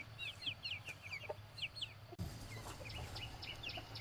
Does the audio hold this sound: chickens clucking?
yes